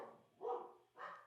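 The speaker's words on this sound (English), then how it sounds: "I'm just watching them probably barking at my neighbor who's just going to work." Dogs barking in a quiet home setting, two short separate bursts of barking at moderate distance, fairly faint, with no speech over them.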